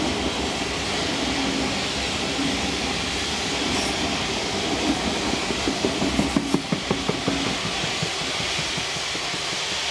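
Train 5917 rolling out toward Kiama in New South Wales, a loud, steady rumble of rail cars with a run of rhythmic wheel clicks over joints building near the end.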